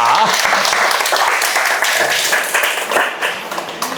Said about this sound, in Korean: 축하와 축원의 박수 부탁드립니다